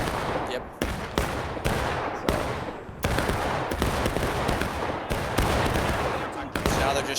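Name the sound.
gunfire in a Civil War battle video game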